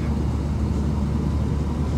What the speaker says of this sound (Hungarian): Egyedül, amit így a rovására írnék, az a hangos ventilátor.